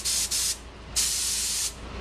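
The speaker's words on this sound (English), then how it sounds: "So right now you see the spray, it's going vertical there." A spray gun lays down even coats about six inches from the surface, heard as three close, loud bursts of airy hiss: two short ones, then a longer steady blast.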